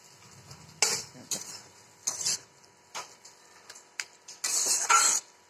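Sabudana khichdi for a fasting meal stirred in a pan, a spoon scraping and clinking in short separate bursts with a soft sizzle underneath, close and fairly quiet.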